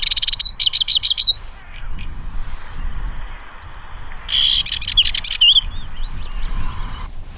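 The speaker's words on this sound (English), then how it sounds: "there's a cheat app on the phone, so we can actually have a little listen" Scratchy, rapid Dartford warbler song plays in two bursts from a phone speaker, with a quieter gap between them and low rustling in the background.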